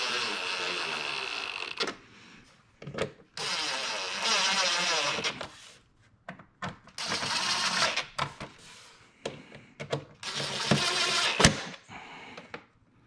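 A power drill on its lowest setting drives screws into the plastic air filter housing of a C43 AMG, in four whirring motor bursts of a second or two each, separated by short pauses.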